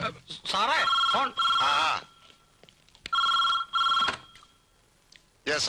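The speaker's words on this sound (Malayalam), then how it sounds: "സാറേ ഫോൺ." A telephone rings in repeated trilling bursts with short pauses between them, loud and close, and a voice speaks briefly at the start.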